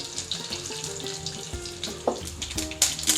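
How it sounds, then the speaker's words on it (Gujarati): Cumin seeds, a dried red chili, curry leaves and sesame seeds crackle and sizzle steadily in hot oil for a Gujarati tempering, with a few sharp pops near the end and no talking. "તેલ ગરમ થઈ જાય એટલે આપણે તેમાં અડધી ચમચી જીરું એડ કરી દઈશું એક સૂકું લાલ મરચું એડ કરી દઈશું"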